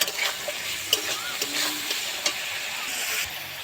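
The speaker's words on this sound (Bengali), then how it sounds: "সব সবজিগুলো ভালো করে ভেজে নেব" Capsicum, peas and chopped green chilli frying in a pan for a sago pulao, a steady soft sizzle broken by scattered spatula scrapes and clicks, close and moderately loud with no talking.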